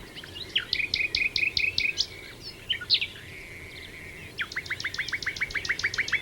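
Several small birds chirp and sing in dense vegetation, with rapid repeated high trills in bursts, a short pause, then another quick run of chirps, fairly close and clear over a faint background.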